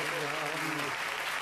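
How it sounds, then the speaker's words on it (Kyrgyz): Audience applause at a Nowruz holiday concert after a performance, a steady dense wash of clapping throughout with a sung or spoken voice faintly underneath. "азаматсыз кол чабуулар сизге"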